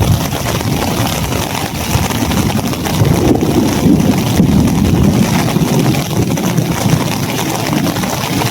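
Heavy rain pours steadily in a dense, loud hiss, with a low rumble underneath and no voices.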